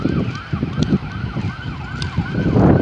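A fire engine siren wails in a steady repeating rise-and-fall cycle on a highway where a lorry is burning. It sounds moderately distant, over wind and rumbling traffic noise.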